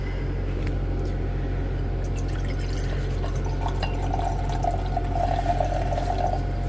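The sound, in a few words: pouring liquid into a bigger beaker during silver refining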